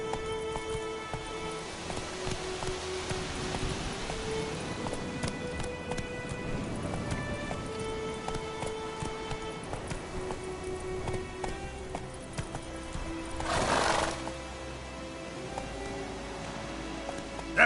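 Geralt's horse Roach galloping in The Witcher 3, steady rhythmic hoof clip-clop running continuously under a soft game music bed, with a brief rushing burst near the end.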